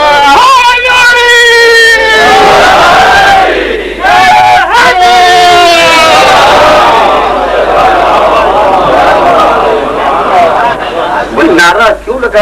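A majlis audience chants religious slogans in loud, repeated, drawn-out unison calls that rise and fall in waves, with a leading voice and crowd murmur between the chants.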